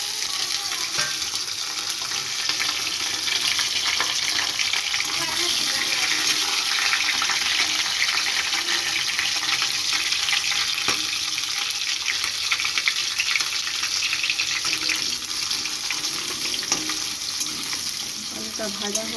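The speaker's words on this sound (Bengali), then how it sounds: "আলুটা ভাজা হোক আস্তে আস্তে।" Potatoes fry slowly in hot oil, giving a loud, continuous sizzling hiss that holds steady throughout, with no talk.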